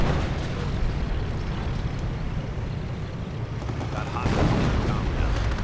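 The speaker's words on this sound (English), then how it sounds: "And artillery moving in on all of this glorious German armor as it moves through the ruins." Artillery fire pounds German armor moving through ruins in a World War II strategy game: rumbling, overlapping blasts form a continuous barrage, with one heavier impact near the end, under an energetic commentator's voice.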